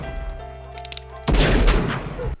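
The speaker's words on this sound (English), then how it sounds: "this drunk pulls his in kind and pops a few bullets into the screen" A film scene's pistol shots fired into a movie screen in a theater: after a quiet musical bed, a sudden loud burst of several rapid bangs erupts and rumbles on briefly.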